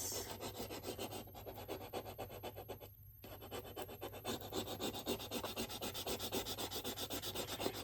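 A rub-on transfer is rubbed onto a craft surface in steady, close scratchy strokes, a continuous rasping rub with a regular back-and-forth rhythm and one brief pause, quiet and without speech.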